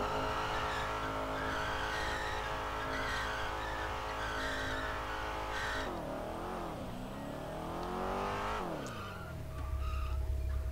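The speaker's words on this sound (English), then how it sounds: "now we're going to move on to the tire screeching that comes with the sound" A loud racing engine revs and holds in the game FiveM, then tires screech in long sliding squeals as the car skids, ending with a rumbling idle.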